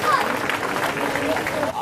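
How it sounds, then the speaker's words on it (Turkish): Audience applause at a hot chili pepper eating contest, a steady wash of clapping and crowd noise held throughout with a hubbub of voices under it. "Evet, bir alkış."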